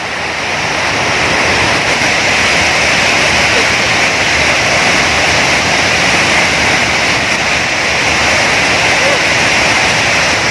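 A strong river current at Tala River Park, Bailen, Cavite rushes in a dense, steady roar close by, filling the scene without pause, with faint voices beneath it.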